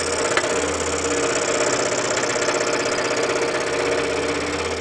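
Scroll saw cutting wood, a loud continuous rapid chattering hum with a low motor drone underneath, steady throughout apart from one brief tap near the start.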